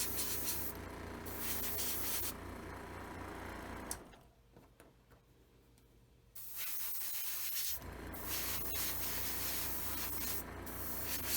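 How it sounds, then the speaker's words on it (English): An airbrush sprays paint onto the back end caps of a 1:1000 scale TOS Enterprise model, a steady close hiss that cuts out for a few seconds in the middle, then resumes. "we're going to be airbrushing just these back end caps"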